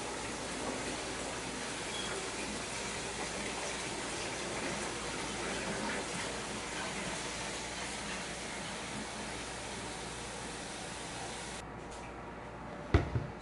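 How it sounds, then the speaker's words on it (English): Hot tap water runs steadily into a 4-cup measuring cup for several seconds, a continuous gushing pour that is moderately loud and close, ending with a brief clink near the finish. "I am going to measure out 4 cups of hot water."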